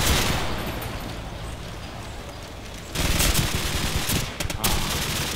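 Bursts of automatic gunfire from the Call of Duty Rio mission in Rocinha, loud and dense with rapid rattling volleys and a sharper flurry of shots toward the end.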